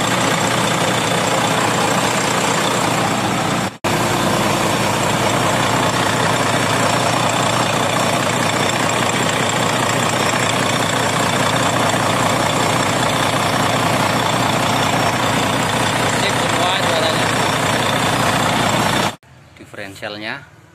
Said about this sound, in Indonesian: Ini suara engine nya masih jos.